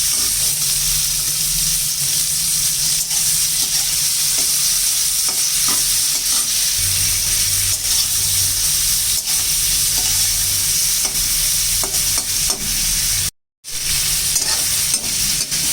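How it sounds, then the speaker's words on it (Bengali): Shrimp sizzle and fry steadily in a pan for a curry with potato and eggplant, with occasional stirring scrapes. The frying noise is loud and close and runs without a break, apart from one brief cut near the end. "এবার চিংড়িগুলি একটু ভেজে নেব।"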